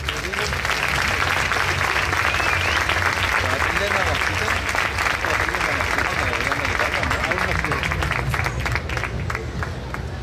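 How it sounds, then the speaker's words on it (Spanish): Loud, sustained applause from a large audience at a spring festival concert in Pozo Estrecho, a dense wash of clapping with crowd murmur that continues steadily throughout. "Un fuerte aplauso."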